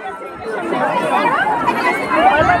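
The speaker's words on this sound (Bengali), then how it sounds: "মানুষের ভিড়।" A dense crowd of worshippers at the Naihati Boro Ma temple on Kali Puja day in the rain fills the air with close, continuous overlapping chatter and babble.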